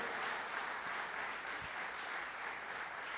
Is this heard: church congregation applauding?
yes